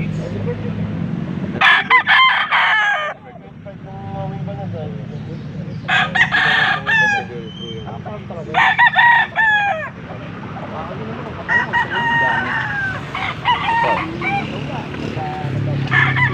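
Several roosters crow one after another, some near and some farther off, over steady background noise and occasional clucking, in Pampanga, Philippines.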